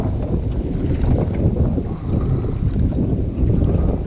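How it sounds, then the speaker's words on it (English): An outboard motor on a fishing boat runs in high gear, a steady loud low drone with wind buffeting throughout, no talk. "I put the motor in high gear"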